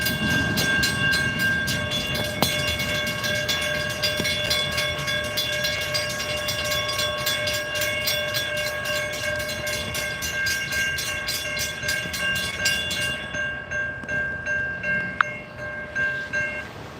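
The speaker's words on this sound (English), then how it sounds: "that was Canadian National A484 with 3250 in the lead" A Canadian National freight train, A484, rolls steadily past at close range with continuous wheel and rail noise, a sustained horn-like tone running through the passage before the sound tapers off near the end.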